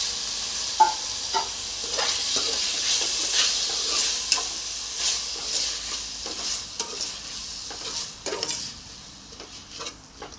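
Rice and moong dal being stirred and mixed in a cooking pot for nonbu kanji, with scraping strokes and a faint sizzle running steadily for about ten seconds, no talking.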